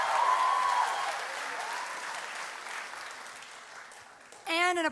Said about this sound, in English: Can we please get another round of applause for our MCs